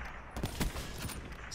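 Gunfire from the video game Call of Duty: Black Ops 3, a few sharp shots in quick succession at moderate loudness over a steady game background.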